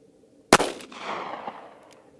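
A single .38 Special round, Federal 130-grain HST, is fired from a revolver through heavy clothing in cold conditions: one sharp, loud crack with a short reverberating tail and a couple of faint clicks after, no talking.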